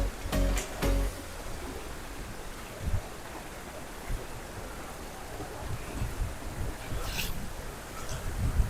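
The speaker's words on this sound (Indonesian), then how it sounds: "Dan ya kita makin dekat ke air terjun." A steady wash of rushing water like a waterfall, broad and noisy, with a few sharp knocks and bumps close by at the start.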